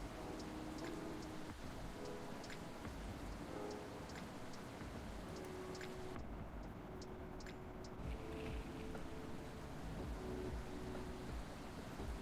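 Rain falls steadily in the Coffee Talk video game, a continuous soft patter with scattered droplet ticks over a low rumble, quiet and unbroken, with no voices.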